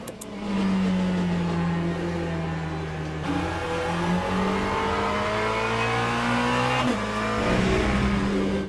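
A GT3 race car in the Le Mans Ultimate sim coasting on the way down to Pouhon: a loud, steady engine drone whose pitch slowly sinks, with abrupt tonal shifts where the revs change, and no voices.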